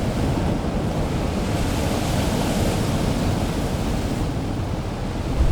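Ocean waves wash around a fishing ship in Arctic waters, a steady, loud broadband rush of surf and wind that swells slightly toward the end, with no voices.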